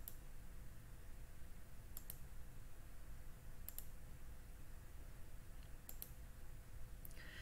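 Faint, sparse computer mouse clicks, single and double, spaced a second or two apart over a steady background hiss.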